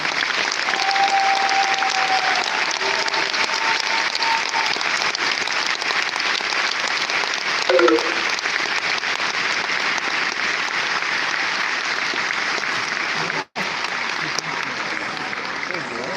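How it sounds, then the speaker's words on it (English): A large audience at an awards ceremony gives loud, sustained applause that stays dense and even for a long stretch, with brief voices or whoops faintly audible within it. "Please join me in a round of applause and do enjoy the rest of the evening."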